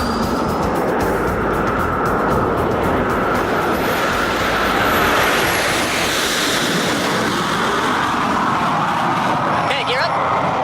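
White Knight carrier aircraft rolling for takeoff: a loud, steady broadband roar of engines and airflow, continuous and close, with a voice speaking over it part of the time.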